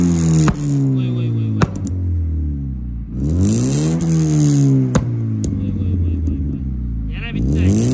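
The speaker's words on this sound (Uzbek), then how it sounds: "Gaz bering aka." A VW Passat's 1.6 engine revs hard under throttle in several rising-and-falling bursts, loud and close, with brief clicks and rattles between the pulls.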